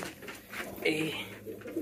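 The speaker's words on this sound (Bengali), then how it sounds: "এখন নতুন কবুতর পাইছে, হেভি ডাক দিচ্ছে সে" A pigeon coos close by in a short, throaty burst, with faint background voices.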